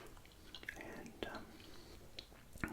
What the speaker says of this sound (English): due to a bit of PK chewing gum